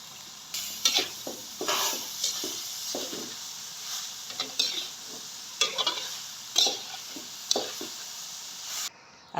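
Carrot halwa is stirred in hot ghee in a pot: a spoon scrapes the pot in repeated strokes over a soft, steady sizzle, fairly close and quiet.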